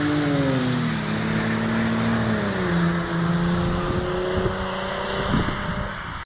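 A Toyota Camry engine revs and accelerates in a street race, its steady loud drone rising in pitch and holding high for several seconds, close and continuous with no talking.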